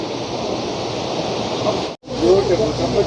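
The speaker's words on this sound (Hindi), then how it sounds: "और झरना है सामने, देख सकते हैं।" A waterfall in the mountains beside a river, heard as a steady broad rushing roar, loud and continuous, briefly cut off for an instant before resuming.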